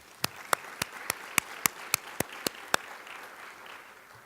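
Audience applause at a criminal justice conference welcome session, heard as sharp, evenly spaced claps over a soft crowd wash that fades out after about three seconds.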